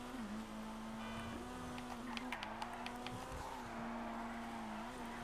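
The Vapid Flash GT in GTA 5 Online drives with a steady, droning engine note that holds a fairly even pitch, with slight shifts as it moves and faint tire noise on top.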